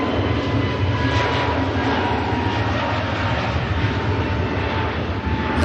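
A fixed-wing aircraft at Manchester Airport sends out a steady, loud broadband engine roar that holds level throughout, with no talk over it.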